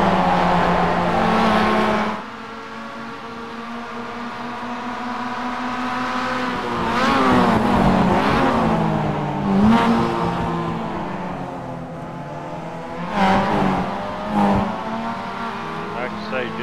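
Mazda MX-5 race cars running a circuit with a chicane and S corner, engines droning steadily and swelling in revving bursts as the cars jostle for seventh position, with a commentator's voice talking over the racing.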